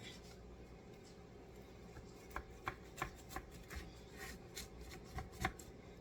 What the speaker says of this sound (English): I'm gonna slice it